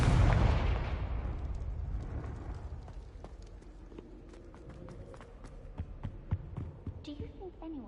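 A Confringo spell explosion in the Hogwarts video game bursts loud at the start and then decays into a long rumbling tail, followed by scattered small crackles and impacts.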